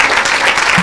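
Brief burst of dense, loud applause from a church congregation, many hands clapping at once with no pause.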